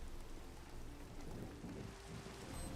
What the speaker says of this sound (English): The thunder gets pretty loud